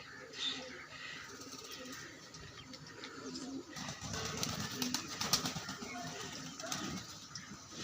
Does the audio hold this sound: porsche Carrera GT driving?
no